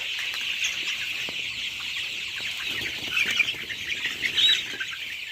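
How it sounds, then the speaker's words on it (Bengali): A flock of 18-day-old coloured chickens in a poultry shed peep and cluck continuously. The chorus is dense and steady, with a few louder calls near the end. "দেখুন মুরগি মোটামুটি আজকে 18 দিন বয়স, কালার বাট।"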